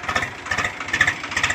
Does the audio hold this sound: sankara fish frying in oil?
no